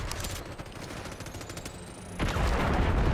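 Call of Duty Black Ops 6 gunfire: dense, close rapid automatic bursts rattle continuously, growing louder and heavier near the end, with no talking over it.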